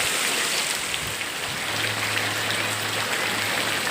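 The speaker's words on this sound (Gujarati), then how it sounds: "એટલો બધો વરસાદ પડ્યો છે" Heavy rain pours steadily over a village farm field, a dense continuous hiss with no breaks, joined by a low steady hum partway through.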